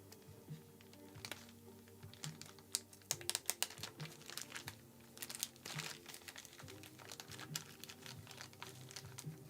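A sticker being peeled off a bag, heard as close crinkling plastic rustles and sharp crackling bursts in irregular clusters over quiet background, no voices.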